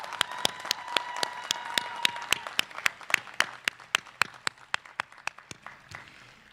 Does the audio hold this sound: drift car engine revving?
no